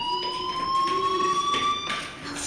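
A fire alarm rings in the Life is Strange video game, a steady high electronic tone with bright harmonics that pulses slightly, sounding continuously at close range with no talking.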